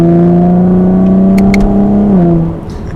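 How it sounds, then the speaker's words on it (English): A 2019 Chevrolet Camaro 1LT RS V6 engine drones loudly at a steady pitch in sport mode, then drops sharply in a downshift into third gear, the exhaust note settling lower as it fades. "Exhaust has a nice beefy tone to it."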